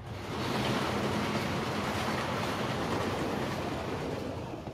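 Steady, loud rushing rumble of a train running in the video game Resident Evil, a continuous rolling roar with no voices.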